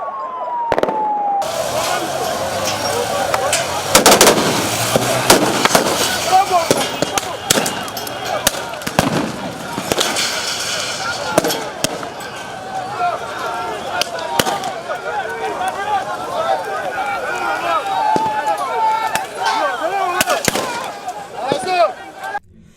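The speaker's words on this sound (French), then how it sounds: "a usé des bombes lacrymogènes et des tirs à balles en caoutchouc pour disperser les manifestants" Police in Kinshasa fire tear gas canisters and rubber bullets to disperse protesters, with sharp, loud bangs and cracks that go off irregularly, some in quick clusters. Crowd noise and voices fill the gaps between the shots.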